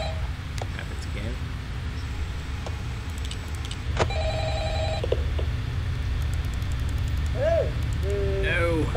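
Telephone ringing inside a LEGO Five Nights at Freddy's video game, a few short electronic ring bursts over steady low game ambience and background sounds.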